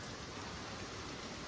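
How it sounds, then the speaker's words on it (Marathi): Heavy monsoon rain pours down in Mumbai, a dense, even hiss of falling water that fills the whole clip at a steady level with no voices. "आणि कडकवाला पाऊस लागलेला आहे."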